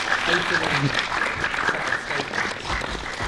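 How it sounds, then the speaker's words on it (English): A debate audience applauds both debaters after a discussion on whether belief in God is rational, with dense, steady clapping from a crowd throughout and a faint voice underneath. "Why don't we give both of our debaters a round of applause for that?"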